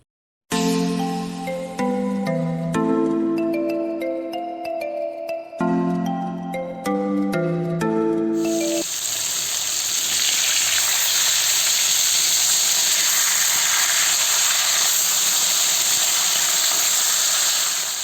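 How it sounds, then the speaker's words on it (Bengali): Bata fish frying in hot mustard oil, a loud, dense, continuous sizzle and hiss that starts abruptly after a short melodic passage and holds steady to the end. "তেলের মধ্যে 1 চিমটে লবণ দিয়ে মাছগুলি একের পর এক করে ভেজে নেব।"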